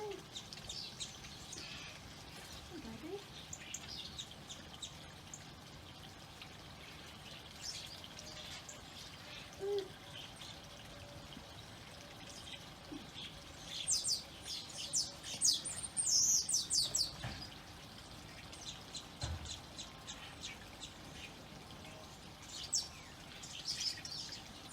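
Garden birds chirp and call repeatedly while feeding, with clusters of bright tweets that swell mid-clip, a faint flutter of wings now and then, and quiet voices speaking in the background.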